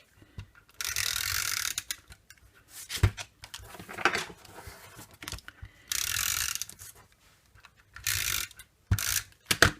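A Stampin' Up! Snail adhesive tape runner clicks and ratchets as it lays tape during card making, in several short, close, mechanical bursts separated by quiet pauses.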